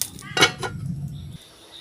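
A metal lid clanks onto a pot with a couple of quick clinks, followed by a soft settling rattle.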